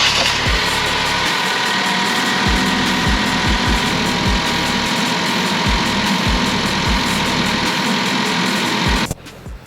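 A Ford Focus rebuilt after being totaled idles steadily while warming up, a loud, even engine drone with a rhythmic low knock running unbroken for about nine seconds before cutting off abruptly.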